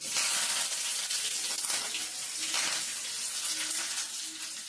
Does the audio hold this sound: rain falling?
no